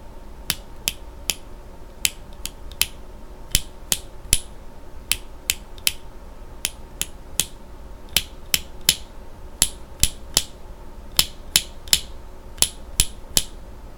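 Mechanical keyboard switches with Panda tops being pressed, emphasizing sharp top-out clicks in an irregular series of crisp taps, close and fairly quiet, with no voices.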